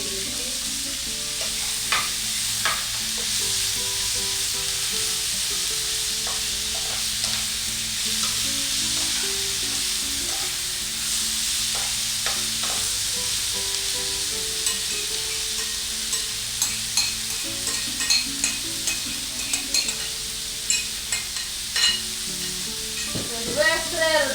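Onions sauté in oil in a pan, giving a loud continuous hiss and sizzle close up, with scraping and clicking of stirring growing more frequent toward the end.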